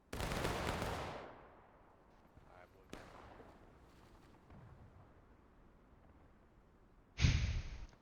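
A single loud volley of gunfire bursts out on command in a video game, followed by a long fading rumble and a softer distant shot, with another sharp blast near the end.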